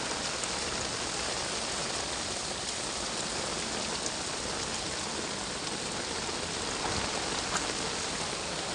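Heavy monsoon rain pours down in Vapi Bhilad, a dense, unbroken hiss of drops on surfaces that stays steady and even throughout, with no voices.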